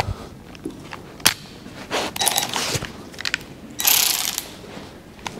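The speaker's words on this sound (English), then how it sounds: "So we need power ratchet with 10 mil." A power ratchet fitted with a 10 mm socket works on an Audi Q3 S-Line dashboard, giving several short bursts of whirring, clicking mechanism noise separated by handling clatter, close and moderately loud.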